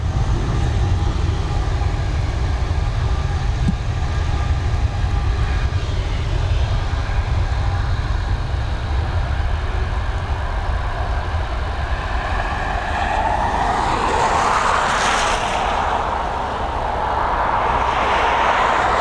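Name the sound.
Airbus A220 jet departing from Dublin Airport runway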